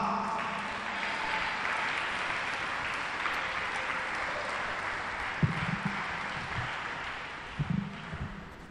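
A church congregation applauds in a long, steady wash of clapping, with a few louder bumps and voices near the end.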